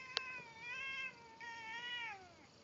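A cat lets out two long, drawn-out whining meows, close and clear, the second sliding down in pitch, preceded by a brief click, with no talking.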